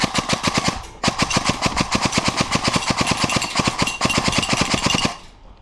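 An airsoft submachine gun fires in fast, sustained bursts of sharp, evenly spaced shots, loud and close, with a brief pause near the first second and another near the fourth before the firing stops.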